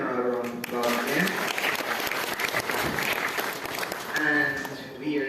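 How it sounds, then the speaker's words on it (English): Sustained applause from a graduation audience at Tagore Memorial Secondary fills the hall, a dense, even clatter of clapping while a voice speaks over it at the start and end. "Let's give him another round of applause again."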